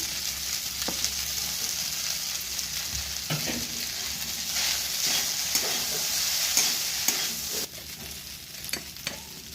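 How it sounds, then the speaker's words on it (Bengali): Fried potatoes and egg are tossed into pasta frying in a pan, giving a steady close sizzle broken by repeated scraping and clacking stir strokes, with no talking. "এবার আমি ভেজে রাখা আলু আর ডিমটা দিয়ে দিচ্ছি"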